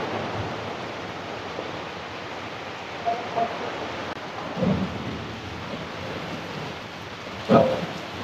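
Heavy rain pours steadily in an outdoor village setting, a dense continuous hiss with a few short rumbles of thunder breaking through near the middle and a stronger crack toward the end.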